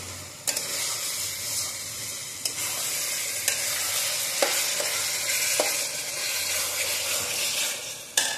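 Minced chicken cooking in a pan, a constant loud sizzle with occasional sharp clicks and scrapes of a spatula stirring, close and uninterrupted by voices.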